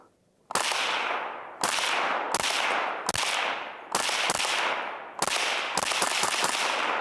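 An FN PS90 firing FN 40 grain VMAX rounds through a Silencer Co. Octane 45 suppressor, with six loud, sharp suppressed reports at roughly one-second intervals, each trailing into a long echoing decay.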